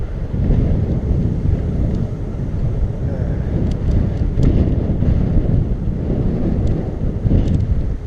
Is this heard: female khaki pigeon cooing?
no